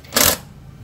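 A short burst from an impact wrench loosening a disc bolt on a Yamaha Sniper 150 motorcycle, a single loud, rasping rattle lasting about a fifth of a second.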